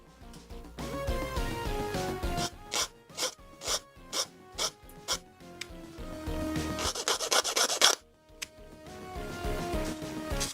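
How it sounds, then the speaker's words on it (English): A part nub on a 1/144 Bandai Gundam plastic model kit being sanded and polished by hand, with a run of short rhythmic rasping strokes, then a longer burst of rubbing, close and fairly quiet. "just nip those leftover nubs here, polish them a bit"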